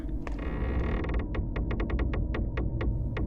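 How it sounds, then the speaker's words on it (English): A door in a school hallway near the gym slowly swings open on its own, giving a long grinding creak that breaks into a run of evenly spaced clicking ticks, fairly loud over a low steady hum with no voices. "the door slowly opened on its own"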